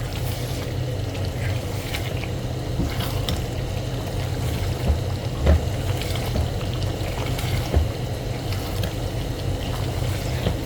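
Chicken qorma frying over a raised flame, giving a steady close sizzle and crackle with occasional louder pops and stirring scrapes throughout, with no talking.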